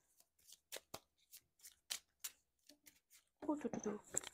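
Tarot cards being shuffled and drawn, with a string of light, crisp flicks and snaps followed by a denser riffling shuffle at the end, quiet and close.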